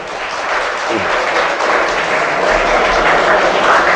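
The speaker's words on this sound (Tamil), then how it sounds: "ஒரு ஆர்வமான கைத்தட்டுங்கள்" Steady, dense applause from an audience at a Tamil university ceremony, a continuous broadband wash of clapping that holds at an even level for about four seconds with no voices rising above it.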